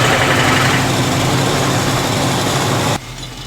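An AMC Hornet engine runs steadily right after being cranked, a loud continuous low rumble that holds for about three seconds before dropping sharply in level near the end.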